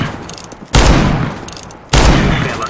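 Two loud, close R8 Revolver shots in CS:GO, each a sharp blast with a decaying tail, fired a little over a second apart after faint ambient game noise.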